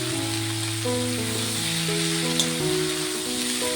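Chopped radish, potato and gourd peel frying with shrimp in a pan, a steady even sizzle close by with one faint clink, no voices.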